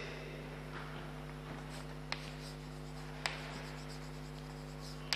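Pen or marker writing a statement during a physics lesson on steady electric current, heard as a faint continuous scratching with a few soft taps against a steady background hum.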